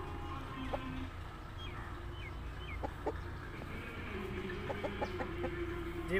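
Aseel roosters cluck and call intermittently over a steady background hum, with short scattered clucks and a few drawn-out calls, moderately distant and not very loud.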